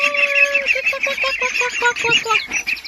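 Several ducks honk and quack in a rapid, repeated series, loud and close, with a steady high hiss of background noise underneath.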